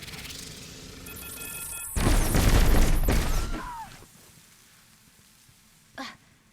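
A swarm grenade from a prismatic hunter in the video game Destiny 2 bursts into a loud crackling, hissing rush of small detonations lasting over a second, then fades, followed by a single short pop.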